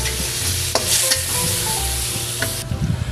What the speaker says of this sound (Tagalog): ilalagay ko na itong ating tatlong klaseng sahog. Ox tripe, beef, and balat ng baka. Sasangkutsa ko siya.